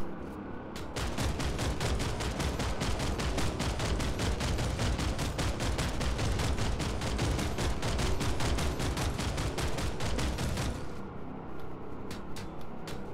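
A Liberator's tail gun in PlanetSide 2 fires a long, unbroken stream of rapid, evenly spaced shots for about ten seconds, loud and close, over a constant engine-like roar, before the burst cuts off and a few scattered shots trail away.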